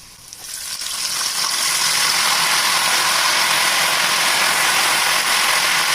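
Raw banana chips frying in hot oil right after turmeric salt water is poured in, the sizzle swelling within a second into a loud, dense, steady crackling hiss with no voices.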